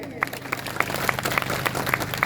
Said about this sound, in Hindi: आप ताली बजाकर उन सभी साथीगण, उन युवाओं का स्वागत कीजिए